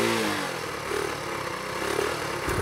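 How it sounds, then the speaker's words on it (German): A motorcycle engine rumbles and revs steadily, close and loud, with slight rises in pitch as the throttle opens. "Klingt wie ein Motorrad, würde ich sagen."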